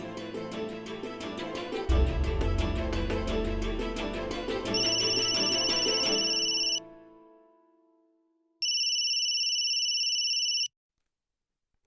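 A telephone rings for an outgoing call: electronic ringback tones sound in two steady bursts separated by silence, following a fading musical sting.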